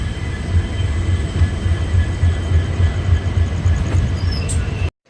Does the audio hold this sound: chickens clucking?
no